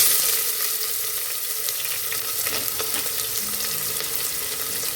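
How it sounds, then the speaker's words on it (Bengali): Sliced onions frying in oil with cardamom, cinnamon and mace for a home chicken curry, a loud, continuous sizzle heard up close, with a faint scrape or two and no speech. "এরপর স্লাইস করে কাটা পেঁয়াজগুলোকে তেলের মধ্যে দিয়ে ভালো করে ভেজে নিচ্ছে"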